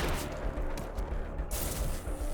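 Rapid gunfire from a video game, a dense run of shots and bursts filling the whole stretch at steady loudness, with a brighter crack of louder fire near the middle.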